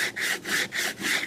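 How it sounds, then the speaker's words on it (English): Rhythmic back-and-forth sanding on the sides of a wooden box with coarse P60 sandpaper, four or five close, raspy strokes in a steady cadence with no voices. "start off with the lowest grit, P60, and that's going to remove any pencil, any glue that's left over from the assemblies here. So sanding the sides"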